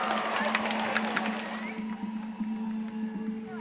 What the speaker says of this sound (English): So a great big round of applause to all of our athletes today